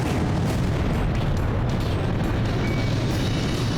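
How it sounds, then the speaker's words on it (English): A missile strikes the player's jet in Ace Combat 5, a loud sustained explosive roar with crackling bursts that stays dense and near throughout, with no pauses. "that missile actually got me"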